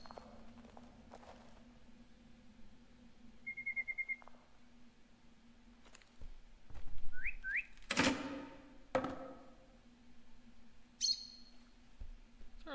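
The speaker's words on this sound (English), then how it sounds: "Is there a birdie in a cage back there?" Chirping songbird in a cage within the game Virginia, with short high tweets and whistled notes scattered among footsteps and other game sounds, moderately loud and intermittent.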